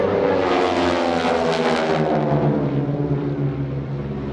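Several propeller airplanes of an aerobatic team pass at an airshow, their engines giving a loud, steady droning roar that swells and then slowly shifts in pitch as they go by.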